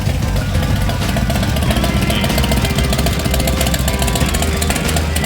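A loud, close 2023 Harley-Davidson Street Bob motorcycle engine running steadily with a rough, throbbing rumble and rapid mechanical knocking, continuous and unchanging throughout.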